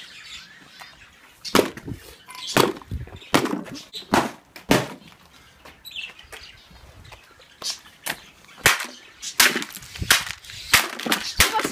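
A hammer whacks a piece of wood repeatedly, giving a series of loud, sharp cracking impacts at irregular intervals with splintering noise between some strikes; no speech is heard.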